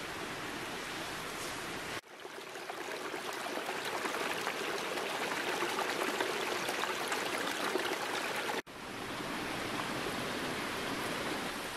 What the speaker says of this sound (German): Ihr hört es vielleicht die ganze Zeit, das Rauschen von dem kleinen Bach.